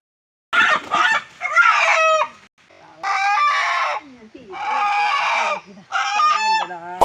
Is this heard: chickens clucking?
yes